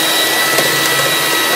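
An electric mixer beats nastar cookie dough after egg yolk is added, giving a brief, close, steady whirring drone.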